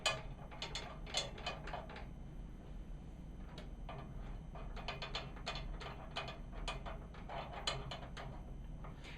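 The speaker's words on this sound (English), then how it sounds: "screw them into the casings with finger tension only" Timpani tension lugs being threaded into their metal casings by hand make small clicking, scraping metallic ticks in irregular clusters, faint and close in a quiet room.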